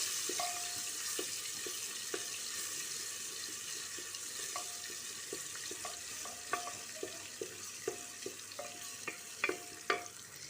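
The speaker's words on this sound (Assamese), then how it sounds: "এয়া তেলখিনি গৰম হৈ গ'ল মই এতিয়া ইয়াত নহৰু দিম এয়া মই নহৰু দি দিলোঁ" Garlic stirred and frying in hot oil in a pan, a soft background sizzle with scattered sharp clinks and scrapes of a utensil growing more frequent toward the end, fairly quiet and without speech.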